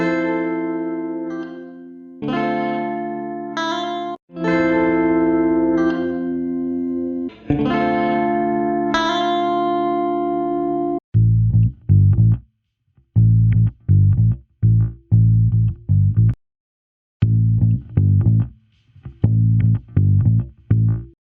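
A guitar run through a simple pedal-style compressor plugin with only output and sensitivity controls: sustained chords ring out first, then tight, punchy chugged riffs with short gaps, all fairly loud and with no voices.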